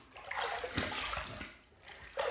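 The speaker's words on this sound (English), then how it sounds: "I'm draining my sink" Water gurgles and drains from a bathroom sink, an uneven close-up swirl and trickle with brief louder splashes.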